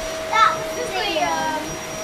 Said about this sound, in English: I've made them hoover up.